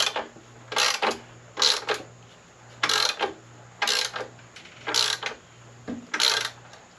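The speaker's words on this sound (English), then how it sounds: "go ahead and snug up or tighten that bolt down here for the front brackets and the motor mount" A ratchet wrench snugging a bolt on the front nerf bar brackets and motor mount of a Yamaha Warrior 350 ATV: about eight short, crisp bursts of clicking in a steady rhythm, close and fairly loud.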